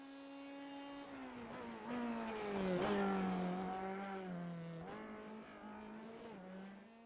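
A Formula 3 race car laps the Zandvoort circuit, its engine note a loud, steady high-pitched whine that climbs and falls through gear changes, swelling closer mid-run before easing away, with no talk over it.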